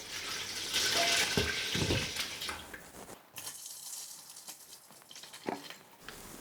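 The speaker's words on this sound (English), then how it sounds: "I'll pour 2 liters of milk" Milk pours steadily into a pot with a rushing, splashing sound, then thins to lighter trickles and drips.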